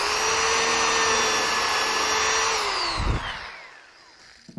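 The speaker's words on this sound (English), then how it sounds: "And I'll do this drilling operation on both ends." A power drill whines steadily at close range, drilling a dowel hole into a cherry wood drawer divider, holding a high pitch for about three seconds before spinning down and going quiet.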